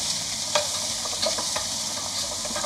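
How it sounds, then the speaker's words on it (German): Bones sizzle and crackle in a hot pan, browning for a sauerbraten sauce, with a steady frying hiss and occasional scraping stirs close by. "Ich brate die Knochen an"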